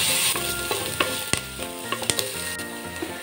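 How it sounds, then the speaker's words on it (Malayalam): Chopped onions sizzle in oil in a pan as the base for carrot chicken pulao, a steady close frying hiss punctuated by sharp clinks and scrapes of a spoon stirring, with no voices. "ഒന്ന് വഴറ്റിയെടുക്കാം"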